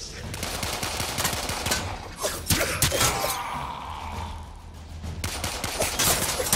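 Sidearm shots at targets in the video game Warframe crackle in quick bursts across the clip, with clusters of sharp reports around the middle and end over steady game ambience.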